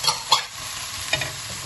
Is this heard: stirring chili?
yes